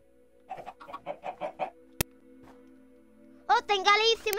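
Minecraft chickens clucking on top of a house in the video game, a quick series of about six clucks followed by a sharp click and louder clucking near the end, with a steady game hum underneath.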